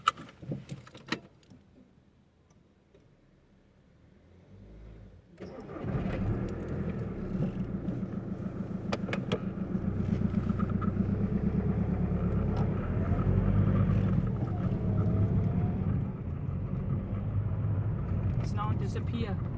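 A 2.0 diesel engine on a Mk5 Volkswagen Golf cranks and catches at about five seconds, then settles into a steady, loud idle and driving drone that holds to the end, with a few clicks and jingles before the start.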